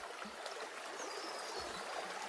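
A swollen creek on a wooded hiking trail flows and burbles softly nearby, a gentle continuous rush of water with no talk.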